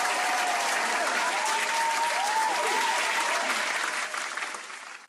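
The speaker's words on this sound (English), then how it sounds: "round of applause for everyone involved" A crowd at an evening review show gives a sustained round of applause, dense and steady clapping that fades toward the end, with a few faint whistles mixed in.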